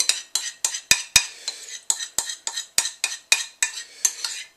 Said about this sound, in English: Just scraping the last little bits here